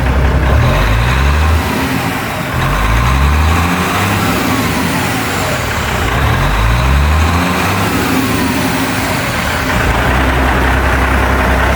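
A Seddon Atkinson truck's diesel engine runs loud and near while warming up, idling with a low rumble and revving up and back down a few times.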